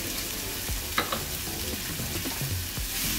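Tomatoes and celery seasoned with salt frying in a pan, a dense steady sizzle with several scraping stirs of a utensil, close and fairly loud, no one speaking.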